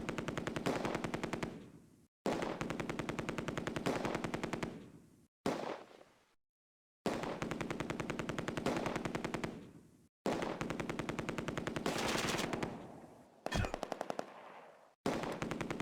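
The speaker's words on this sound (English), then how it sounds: "Lieutenant Nias and his section counterattack the MG42." MG42 machine gun fire from the Close Combat: A Bridge Too Far World War II game, long rapid bursts repeated several times with short silent gaps and echoing tails, loud and close.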